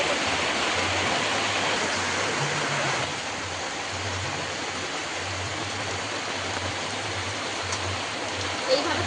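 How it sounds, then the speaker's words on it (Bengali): Palm fruit fritters (taler bora) sizzling as they fry in hot oil, a steady broadband hiss that runs close and continuous, with a slight drop in level partway through and no talking. "তেল একটু হালকা গরম হয়েছে, একটা দিয়ে দেখবো গরম হয়েছে নাকি তেলটা।"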